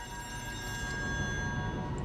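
Telephone ringing inside the video game Still Wakes the Deep, a steady electronic bell tone holding under faint ambient game noise for about two seconds, with no talking.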